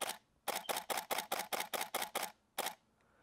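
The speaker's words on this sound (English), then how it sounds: "see if you can hear the shutter sound a little bit better" Canon 5D Mark IV DSLR shutter firing in a rapid burst of about ten crisp, evenly spaced clicks, then a short pause and one final actuation, close and clear with no talking.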